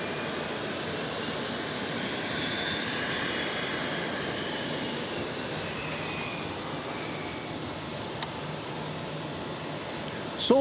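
An aircraft on the runway at Dallas Love Field gives off a steady broad engine roar and rumble that stays loud and even throughout, slowly shifting in tone.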